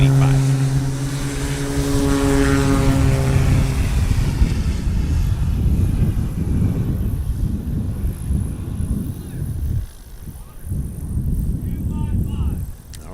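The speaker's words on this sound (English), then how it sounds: "Here comes Adam Gordon in the 185." Cessna 185 landing at a STOL competition practice in Hartford, Wisconsin, its propeller engine droning loudly and falling in pitch as it passes, then a steady rumble near the end, with an announcer talking over it.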